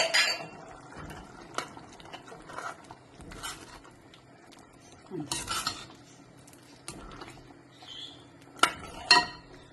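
Green peas curry is spooned out of the pot into a serving dish: a spoon clinks and scrapes against metal in scattered bursts, with soft wet slops of thick curry between the sharp taps.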